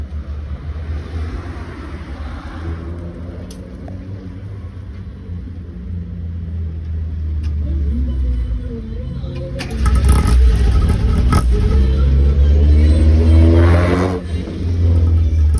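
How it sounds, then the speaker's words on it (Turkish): A lowered, modified Tofaş car engine idles with a low exhaust rumble, then revs up loudly and holds high before dropping back, close by with no talking. "Çalıştır da bir egzoz ver bize."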